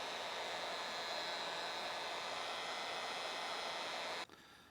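A continuous, fairly soft rush of air from a blower is directed over epoxy resin on a wood charcuterie board to soften a dark line, holding steady before abruptly stopping near the end.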